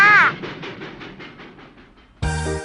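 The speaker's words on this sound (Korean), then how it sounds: "활짝기차가 왔나 보다." Train arrival sound effect in a children's Korean learning activity: a rising whistle, then rhythmic chugging that fades, followed by a bright bell-like chime at the end.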